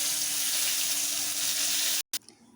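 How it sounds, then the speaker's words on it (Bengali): Pieces of pointed gourd (potol) fry in hot oil with a dense, even sizzle close up for about two seconds before it cuts off abruptly, leaving a faint quieter remainder. "একই রকমভাবে যে পটলগুলো ছিল অন্য পটলগুলো ভেজে নেব।"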